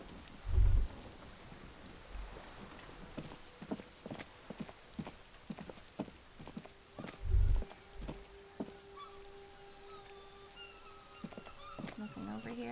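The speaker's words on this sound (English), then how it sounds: "Ooh, we made it rain." Steady rain patters in the video game Disco Elysium, a soft continuous hiss of drops with occasional louder thuds, fairly quiet throughout.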